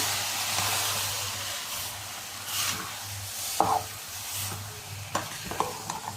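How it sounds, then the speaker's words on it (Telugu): Tomato chutney mixture being stirred in a hot pan, a steady sizzle and frying hiss under a low hum, punctuated by a few scraping stirs and clinks of the spoon, close and fairly quiet with no speech. "ఇప్పుడు మొత్తం కిందికి పైకి బాగా మిక్స్ చేసుకోవాలి."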